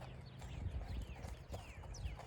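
Horse hooves clip-clop in a steady walking rhythm, moderately near and faint, with a low background rumble and no speech.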